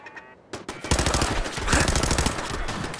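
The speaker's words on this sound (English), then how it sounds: "I did not realize that was a turret." A turret opens fire in Fallout 4. A rapid, loud burst of automatic gunfire starts abruptly after a brief quieter moment and then keeps going without a break.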